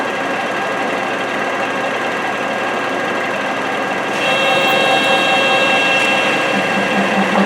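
A machine cutting into a metal workpiece set half an inch off the deck, a loud steady whirring drone with high whine that grows a little harsher and louder midway, close and continuous without talk.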